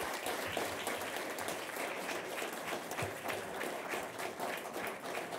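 An audience at a conference on video games teaching history gives a sustained round of applause, dense and even, somewhat distant and fairly quiet, with no speech over it.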